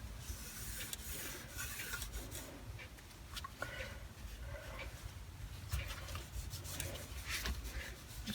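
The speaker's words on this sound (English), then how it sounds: "Just taking a little bit of grime off of it." Steady rasping scrubbing across the metal of a grimy Craftsman toolbox, continuous strokes close up with no talking.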